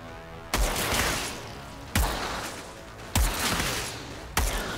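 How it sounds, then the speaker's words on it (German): Gunfire in the video game Outriders: four loud, sharp shots spaced about a second and a half apart, each bursting out and then trailing off in a long echoing tail, with no talking. "Wir müssen noch mal ein bisschen hier rumschießen"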